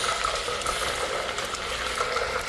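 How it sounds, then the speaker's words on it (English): Lamb kidneys fry in a hot pan with a steady, close, dense sizzle and crackle throughout, with no talking. "we're going to continue frying these"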